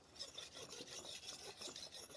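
An axe is sharpened by hand on a whetstone by a seated man, giving quick continuous rasping strokes, close but soft and steady throughout.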